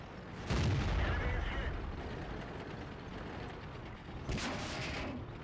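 Two booming tank cannon shots a few seconds apart in World of Tanks gameplay with a Type 59 tank, under a speaking voice.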